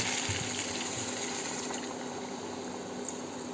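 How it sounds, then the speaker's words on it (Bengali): Water pours steadily into a cooking pot holding partly boiled potatoes, a continuous rushing, gushing fill that stays fairly loud and even throughout, with no talking over it. "এইবার আমি অ্যাড করছি জল।"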